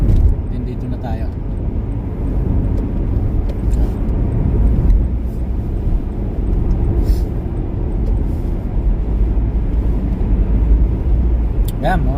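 Trucks rolling along a snowy winter road where black ice is present, a steady low engine and tire rumble passing nearby with a constant broad roar throughout, and a voice talking over it.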